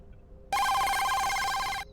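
A telephone rings in a horror video game: one bright, buzzing electronic ring starts abruptly after a moment of quiet, holds steady at close range and cuts off sharply.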